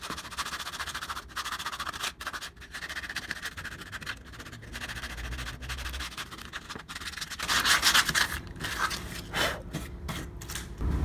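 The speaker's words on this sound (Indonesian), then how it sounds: "kita bersihkan bagian sisa-sisa kertas-kertas ini menggunakan amplas, dan saya biasa menggunakan amplas dengan ukuran 60 ya" A wood carving is sanded with 60-grit sandpaper to clear off leftover paper bits, producing uneven rasping strokes that are close and moderately loud, with brief pauses and a denser, brighter stretch toward the end.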